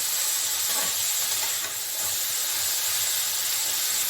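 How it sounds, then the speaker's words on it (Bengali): Broccoli frying uncovered in oil over high heat, a loud, continuous hiss and sizzle that holds steady throughout, close up with no talk. "এই হাই হিটে আমি ভাজছি"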